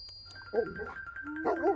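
A dog whines and yips in a few short, rising cries, close by, over a low steady hum and a faint high tone.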